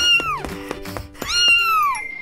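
A kitten meowing, two loud drawn-out mewing cries near the microphone separated by a short pause, with faint clicks and sounds between them.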